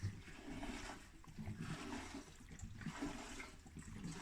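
Fuel pours steadily into a freshly repaired Mini fuel tank, a continuous liquid gush and gurgle lasting throughout at close range with no talking.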